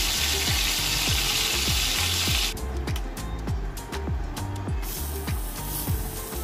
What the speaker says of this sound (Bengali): একইভাবে সব মাছের পিসগুলিকে আমি ভেজে নিচ্ছি।